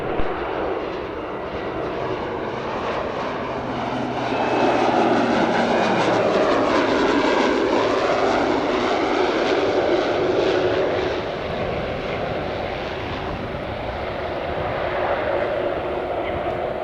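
An airplane landing at Spirit of St. Louis Airport, a loud steady engine roar swelling as it passes close, then easing off into a lingering rumble, with no voices.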